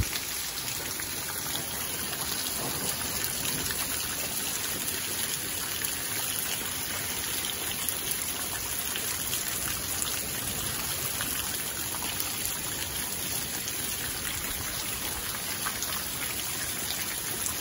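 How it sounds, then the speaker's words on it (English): Steady rain falls during a cold winter thunderstorm, a dense continuous hiss of drops hitting surfaces with a trickling, running-water quality, loud and unbroken throughout with no voices. "No, it's more of a thunderstorm,"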